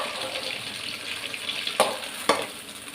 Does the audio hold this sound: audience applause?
no